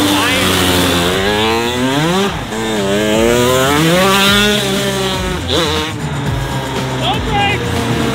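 A CR80 shifter kart engine runs loud and close, rising and falling in pitch as it revs through the gears, with a voice talking over it.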